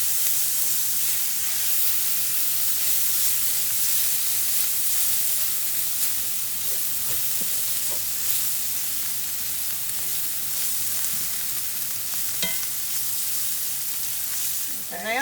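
Ingredients with a sprinkle of paprika sizzle in a hot pan while being stirred for an old-fashioned cabbage casserole, a constant loud hiss with a few soft scrapes and clicks near the end.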